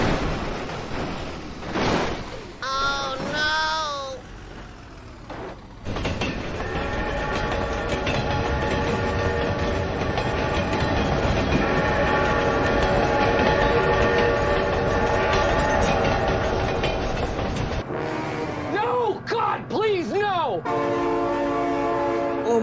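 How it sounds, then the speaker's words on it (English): A train rumbles past in the BeamNG.drive driving game, with its horn blaring several times and a long, loud rolling clatter of rail cars. A voice exclaims over the start and the end. "Oh my god, train!"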